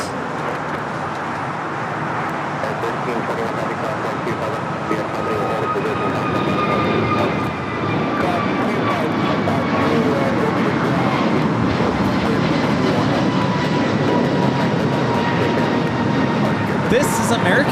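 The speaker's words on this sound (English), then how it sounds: "This is American Airlines 636 taking off to Charlotte on the A321neo." An American Airlines A321neo roars steadily on takeoff at LAX, a broad dense jet rumble filling the whole stretch and swelling slightly louder toward the end.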